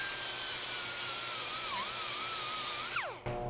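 An Ingersoll Rand right angle die grinder stripping paint from metal gives a loud, steady high-pitched whine that drops and winds down near the end, close up and alone.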